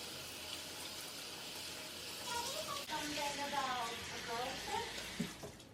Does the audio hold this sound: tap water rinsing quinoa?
yes